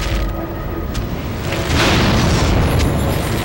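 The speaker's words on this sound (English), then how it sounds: "I might be able to get off a quick fireball" A fireball spell explosion in Dragon Age: Origins, a loud, sustained booming roar that swells partway through and holds, dense and rumbling, with no talk over it.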